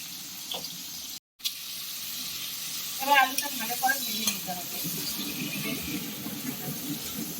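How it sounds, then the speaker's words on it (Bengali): Potato pieces frying brown in a pan give a soft, continuous sizzle, joined midway by a burst of clattering stirring sounds, after a brief cut of silence near the start. "আলুগুলো সুন্দর করে ব্রাউন করে ভেজে তুলে নেওয়া হলো"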